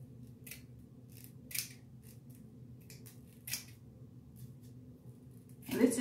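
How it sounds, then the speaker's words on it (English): Quiet snips of scissors cutting wig lace, a handful of separate cuts spaced a second or two apart over a low background hum. "I'm gonna take some scissors and I'm just gonna cut my lace"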